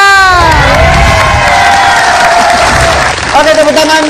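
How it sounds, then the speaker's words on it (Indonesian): A studio audience at a televised health talk show applauds and cheers loudly for several seconds, a dense wash of clapping with whoops, easing off near the end. "tepuk tangan buat Khadijah"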